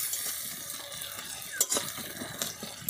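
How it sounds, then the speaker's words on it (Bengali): Chopped onion fries gently in oil with cumin seeds over low heat, giving a soft, steady sizzle broken by a few sharp stirring scrapes and utensil clinks near the end. "দিয়ে দিলাম পেঁয়াজ কুচি। পেঁয়াজটা ভাজা ভাজা হয়ে গেলে দিয়ে দেব আদা রসুন।"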